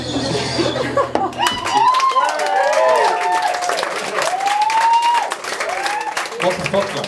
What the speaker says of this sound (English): Stop clapping, you won't even get me a drink.